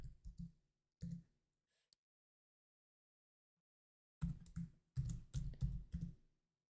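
Keys clack on a computer keyboard as a password is typed: two short bursts of quick taps, a long silence, then a faster, denser run of keystrokes, close and clear.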